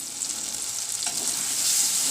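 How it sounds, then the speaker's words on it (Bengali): Spice masala with a little chili powder frying in a pan at home, a steady bright sizzle and soft stirring scrapes running continuously, close and fairly loud, no talking. "মশলাটা আমার পুরো ভাজা হয়ে গেছে।"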